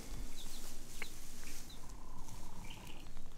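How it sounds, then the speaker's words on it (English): Soft, low hen clucks with faint high peeps from chicks tucked around her legs, a few scattered calls over steady outdoor background noise on a farm in central Portugal. "little mama hen's got her little babies sort of tucked around her legs, keeping warm."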